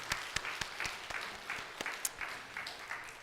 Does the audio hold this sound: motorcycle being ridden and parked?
no